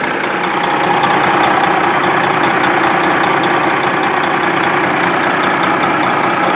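A Detroit 12.7 diesel truck engine without EGR idles close by with a steady, loud, rumbling chug that holds unchanged throughout.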